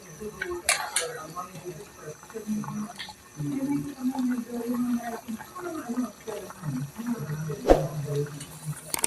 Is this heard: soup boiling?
yes